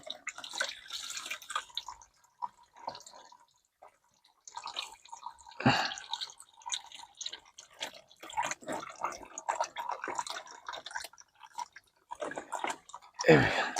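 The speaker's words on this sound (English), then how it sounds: "It's draining all over everything. It's like an oil shower." Engine oil drains and drips from a 1968 Ford in irregular spattering bursts, with faint handling noises and no clear talk.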